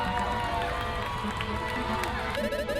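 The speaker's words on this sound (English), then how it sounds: "Let's get one last round of applause for our two players." Crowd cheering and applause from a video game chess club showdown, a steady dense roar of many voices and clapping with game music tones near the end.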